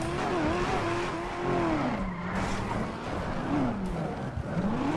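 A sports car engine in GTA 5 revs and roars continuously, pitch rising and falling through several swells, loud and close, with faint tire noise beneath.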